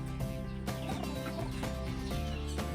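A brood hen clucks in soft, repeated calls, close and fairly steady across the short stretch, with faint farmyard noise around her and no talking.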